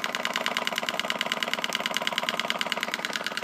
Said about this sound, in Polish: już silnik zaczyna zwalniać